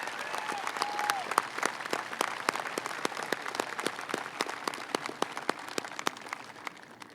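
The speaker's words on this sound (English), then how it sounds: "give Graham a round of applause for his efforts this week." A round of applause for Graham at a golf tournament's closing ceremony, the 2012 RBC Canadian Open: a steady crowd of hands clapping throughout, moderately loud and sustained, with faint voices mixed in beneath.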